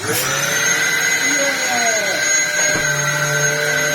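A restored Dyson DC07 vacuum cleaner runs with a loud, steady, high-pitched motor whine, with faint shifting whistles and small rattling noises throughout.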